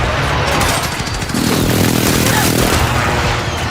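Airstrike explosions and gunfire rumble through a video game battle, a loud, continuous wash of booms and rapid shots with no pause and no talk.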